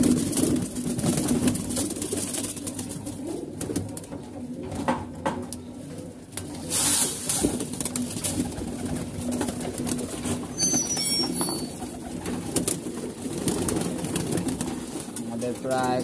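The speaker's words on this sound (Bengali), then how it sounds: "এখানে কবুতর বেশি" Pigeons cooing at a pigeon-keeping spot, soft repeated coos under a steady mix of background noise and occasional voices, with a brief flutter of activity near the end.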